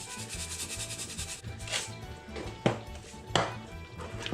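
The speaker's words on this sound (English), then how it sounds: "Give it a nice stir." Stew with gravy, ginger and garlic being stirred roughly in a pot, a soft scraping and rubbing with a few louder knocks of the spoon against the pot, close and fairly quiet.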